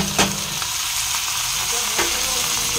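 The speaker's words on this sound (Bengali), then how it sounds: "পেঁয়াজটা ভাজা হচ্ছে। এর মধ্যেই আমি ফুলকপি আর আলুটা দিয়ে দিলাম" Onion, cauliflower and potato frying together in a pan, a steady close sizzle with a couple of sharp stirring scrapes, no voices.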